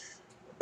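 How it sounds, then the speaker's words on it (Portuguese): A single sharp throat clearing and cough bursts out at the very end of a quiet moment, close and loud, with no speech over it. "essa tosse não é corona, não se preocupem"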